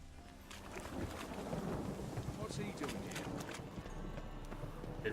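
Steady heavy rain pours down in the streets of Novigrad during a storm in The Witcher 3, a dense continuous wash with faint low rumbling and some scattered knocks underneath.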